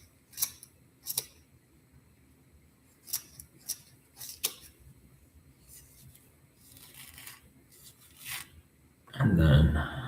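Scissors snipping nutria fur for fly tying, a series of close, crisp cuts spread irregularly over several seconds, ending in a louder rustling burst.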